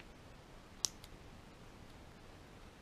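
A small pair of scissors gives one sharp, faint snip while trimming off excess fishing line for a carp rig, followed by a softer click in an otherwise quiet setting.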